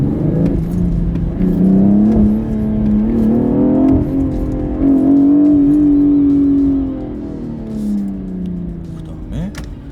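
A BMW 840i Gran Coupe in Sport Plus mode revs loudly from inside the cabin, its deep exhaust note swelling and holding for several seconds before easing off into a lower steady drone.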